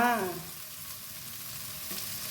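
Pork pieces hit a hot pan and stir-fry with a fairly quiet, steady sizzle after a brief clatter at the start, with no voices.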